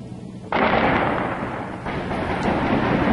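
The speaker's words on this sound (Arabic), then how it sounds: "دير الزور، قصف على مساكن الشهداء" Artillery shelling strikes a residential area in Deir ez-Zor, one heavy blast breaking in suddenly and rumbling on, with a second deep boom following about a second later, loud and unaccompanied by voices.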